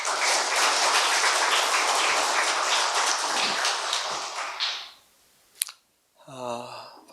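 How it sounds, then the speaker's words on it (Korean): Audience applause welcoming a lecturer to the podium at a Baptist church talk, a dense sustained clapping that fills the room for several seconds, then fades out, followed by a sharp tap and a short stretch of speech. "박수로 환영하겠습니다."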